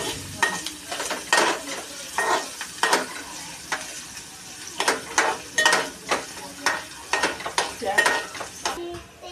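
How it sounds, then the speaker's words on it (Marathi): Onion and chilli for poha are stirred in a hot pan with oil, giving repeated scraping strokes in a steady rhythm over a continuous close sizzle, with no talking. "आता मी सर्व हलवून घेत आहे"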